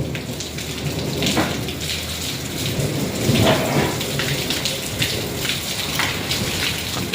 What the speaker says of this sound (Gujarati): ભર ઉનાળા વરસાદ આવી ગયો અમારા ગામની મধ্যে